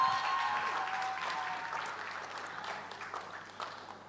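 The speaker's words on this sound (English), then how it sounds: "round of applause" Audience clapping at a startup pitch competition event, a sustained wash of many hands applauding together that starts fairly full and gradually thins and fades over a few seconds, with no talking over it.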